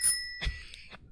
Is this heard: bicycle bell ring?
yes